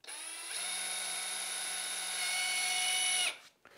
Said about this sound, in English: I'm gonna pop in a screw right into that wall